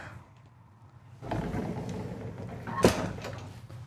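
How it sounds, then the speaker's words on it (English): Pocket door in a 2024 Newmar Bay Star Sport 2920 motorhome sliding along its track, a quiet rolling rumble that ends in a short knock as it stops. "there is a pocket door right here"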